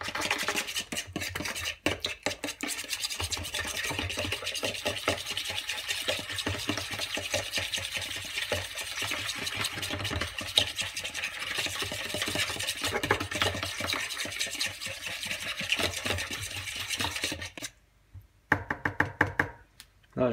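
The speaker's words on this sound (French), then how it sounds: "Je mélange le tout." Seasoned ground meat filling for meat turnovers is worked by hand in a bowl, a continuous close squelching and stirring with soft knocks against the container, steady for most of the stretch before stopping near the end.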